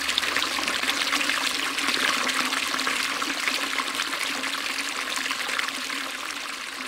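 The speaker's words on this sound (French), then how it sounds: "il est traversé de multiples petits ruisseaux et que chacun de ces ruisseaux ont un chant différent" Several small streams trickle and flow steadily across a natural site, a continuous close-up wash of running water with no voices.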